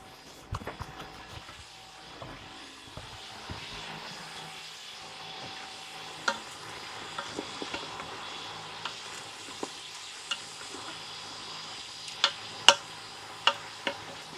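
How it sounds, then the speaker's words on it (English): Beef shanks browning slowly in a Ninja Foodi give a faint, steady sizzle with scattered sharp pops and ticks throughout. "Brown it up nicely."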